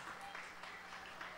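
A church congregation claps along in a brief, moderately faint burst of applause with a loose rhythmic pulse, heard from within the room.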